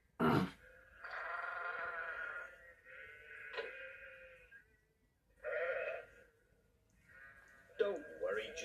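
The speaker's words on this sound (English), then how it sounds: "It was Al Thompson driving his sheep across the road." A flock of sheep being driven across a country road bleats in several drawn-out, wavering calls, close and fairly loud, with gaps of quiet between them.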